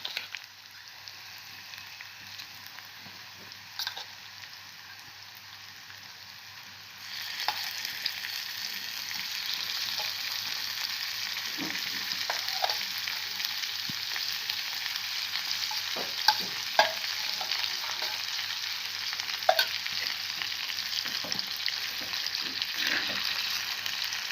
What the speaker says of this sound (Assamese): এতিয়া তেল আৰু পিঁয়াজখিনিৰ লগত ভালকৈ মিহি লৰাই ভাজি থাকিম।